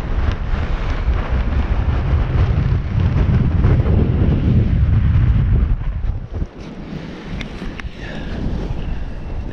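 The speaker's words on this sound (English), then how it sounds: "She's a bit breezy." Heavy wind roars across the microphone on a rocky shoreline while foraging for abalone, a loud continuous buffeting that drops briefly and then continues more lightly.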